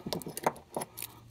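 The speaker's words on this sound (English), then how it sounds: "Pull the paper off." Crinkly paper wrapping being pulled off a new spark plug fresh out of the box, a few short rustling bursts up close with no talking.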